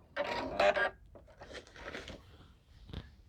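A sewing machine back-stitching on a fabric Christmas placemat: a loud close burst of rapid rattling stitches, then several quieter, shorter runs with pauses between.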